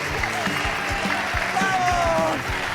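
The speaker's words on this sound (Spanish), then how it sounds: "fuerte el aplauso para Jorge Puello" Studio audience applauding a guest's entrance on a theatre-stage talk show in Zaragoza. The clapping is steady and dense, with rhythmic low thumps and a voice cutting through near the end.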